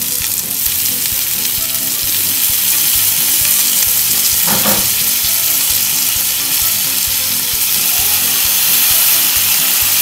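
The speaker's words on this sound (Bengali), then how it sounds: "এবার হচ্ছে আমরা একটু করে সস দিয়ে দেবো এটার উপরে" Chicken shashlik frying in a pan hisses with a loud, dense, continuous sizzle throughout as sauce is poured over it, with a brief louder spatter midway and a faint clatter, close and alone.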